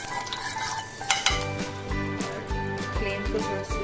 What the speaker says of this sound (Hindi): उसके ऊपर मैं थोड़ा सा ऑयल लगाऊंगी।